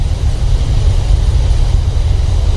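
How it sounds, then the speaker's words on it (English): Boeing 737-800 speed brakes deploy during a landing in a flight simulator game, a loud low rumbling roar that holds steady throughout with no speech. "Speed brake up."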